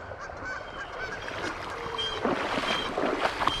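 A flock of geese honks on the Hiwassee River in East Tennessee, with repeated calls at moderate distance over steady water and boat noise.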